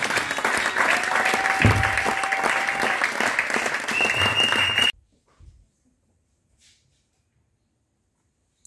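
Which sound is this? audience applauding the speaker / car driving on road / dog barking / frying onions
audience applauding the speaker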